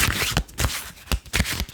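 Playing cards riffled and snapped in a quiet setting, several crisp papery bursts in uneven rhythm, close and fairly loud with no voices.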